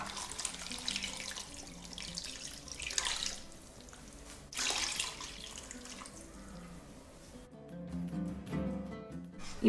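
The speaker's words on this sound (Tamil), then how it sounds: "இப்போ நான் இதில் ஒரு 750 ml அளவுக்கு நான் தண்ணி சேர்த்துக்கிறேன்." Steady running water splashes into a cooking pot, about 750 ml, continuous and close, with the flow shifting in pitch partway through before continuing.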